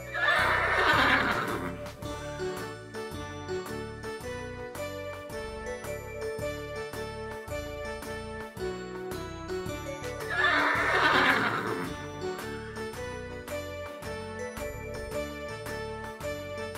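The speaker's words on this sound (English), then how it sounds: "Horse." A horse neighs twice, loud whinnies separated by several seconds, over a tinkling, jingly musical backing.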